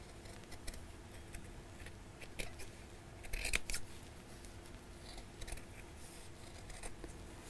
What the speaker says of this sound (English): let's line up the edge there and just cut those out.